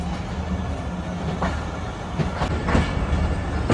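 The Bolan Mail passenger train sits at a Pakistani railway station on the Karachi line, giving a loud, dense rumble with faint rolling clatter and a few brief clanks, no talking.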